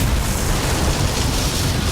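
A bomb explosion in the video game Dishonored, a loud, dense roaring blast that holds at full strength for the whole two seconds with no talk over it.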